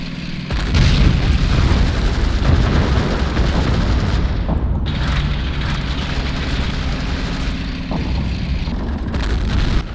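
Continuous heavy rumbling booms and blasts in a Men of War battle as an anti-tank gun fires and its shells explode, a dense roar of loud low-end explosions with a brief lull midway.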